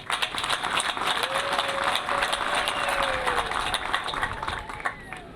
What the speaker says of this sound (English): let us join our hands together to give a round of applause